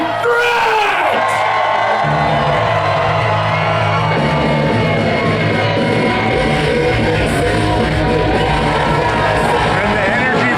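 A wrestling crowd at a WPW event roars and cheers continuously as Jody Threat walks out, whoops and yells rising over a steady wall of noise with entrance music underneath, loud and sustained throughout.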